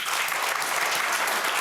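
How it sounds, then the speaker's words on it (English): A studio audience on a TV talk show breaks into brisk, dense applause, a loud continuous patter of many hands clapping with no pause throughout. "I'm not used to applause when I do TV"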